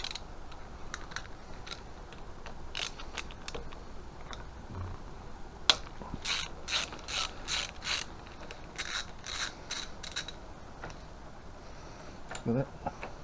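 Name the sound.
loosening motorcycle clutch bracket with 5mm Allen key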